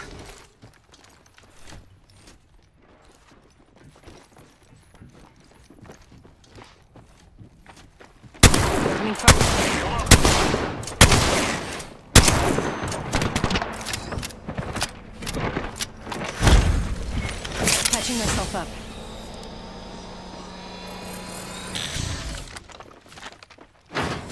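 Gunfire from the video game Apex Legends: a quiet stretch, then dense bursts of loud rapid shots and impacts, with sharp cracks scattered through a chaotic stretch of combat noise.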